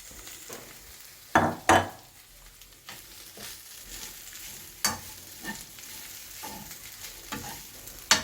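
Small shrimp frying in a pan with grated coconut and chilli, soft steady sizzle broken by a few sharp clatters and scraping stirs, close and moderately loud.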